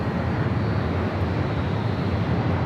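An airliner on takeoff roll at Los Angeles International Airport makes a continuous, even, broadband jet roar with no speech.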